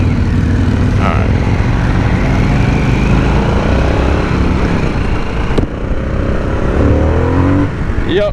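A Harley-Davidson Sportster S 1250cc motorcycle pulls away and accelerates, its engine rising through the revs in a loud, rough roar with wind rush, up close from the rider's position.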